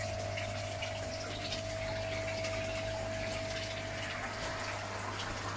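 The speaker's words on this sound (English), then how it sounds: "You then switch on your air pump." A small aquarium air pump runs close and steady, a continuous low hum with a faint watery bubbling hiss and no voices.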